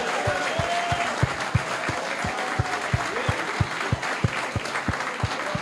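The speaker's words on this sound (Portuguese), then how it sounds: "vamos dar salva de palmas." A church congregation applauds during a Portuguese-language service, a continuous broad roar of many clapping hands with one close clapper striking steady, regular beats that stand out above the crowd.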